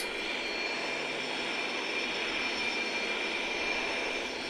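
Jet engines of a Boeing 737 roar steadily in flight on a short hop out of Seattle, a constant, even cabin drone with a faint high whine running throughout.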